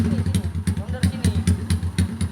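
Idling engine of a Honda Cub-based chopper motorcycle, a steady low putter with regular pulsing and periodic sharper clatter, heard close up under people talking.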